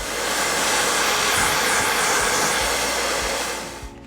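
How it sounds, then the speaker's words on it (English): A hair dryer blasts a steady, loud rush of air over braided hair, holding constant for several seconds before tapering off at the end, with no voices. "If you're going to blow dry, just remember to blow dry with the nozzle going down your hair."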